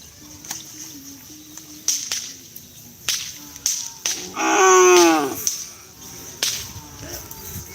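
Racing cattle of a bull racing team low with one long, loud moo, amid sharp whip-like cracks and rustling at close range, outdoors.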